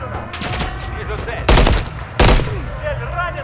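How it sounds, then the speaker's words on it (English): Call of Duty Modern Warfare 3 firefight with two loud, close bursts of rapid automatic gunfire about a second long each, separated by a short pause, over a background of battle noise and scattered radio chatter. "Heavy fire! RPGs!"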